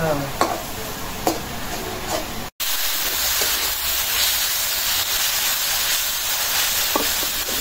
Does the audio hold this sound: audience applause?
no